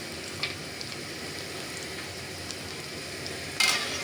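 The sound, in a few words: onions frying in a pan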